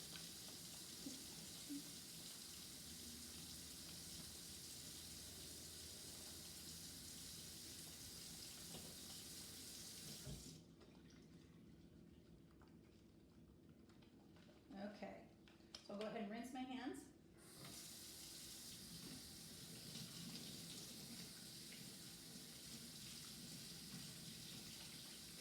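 A sink faucet pours a steady stream of water during handwashing, cutting off sharply partway through, then after a short gap a brief splash and clatter before the flow returns and runs on to the end.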